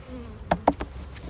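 Honeybees from an opened drone hive buzz in a soft, steady hum, with a few brief louder passes close by standing out over the low drone.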